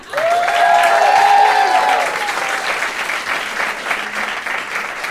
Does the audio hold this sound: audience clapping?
yes